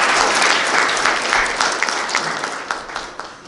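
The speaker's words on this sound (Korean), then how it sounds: "여러분 박수로 환영드립니다" An audience at a Korean memorial ceremony and commemorative society launch claps in welcome, loud sustained applause from a crowd that gradually thins and fades toward the end.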